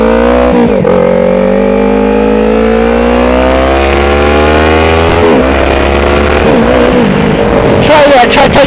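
A liter-class sport motorcycle engine revving hard, loud and close, its pitch climbing steadily through the revs with brief dips at gear changes or throttle lifts, and no talking over it.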